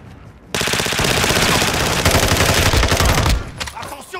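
Sustained automatic gunfire in Call of Duty: Modern Warfare II, a loud, dense burst of rapid shots lasting about three seconds before cutting off.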